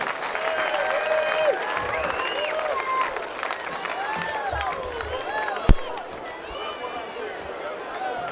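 A festival main stage crowd in Falmouth applauds and cheers, dense clapping and whoops filling the air from a large outdoor audience, with voices calling out through it and one sharp bang near the end.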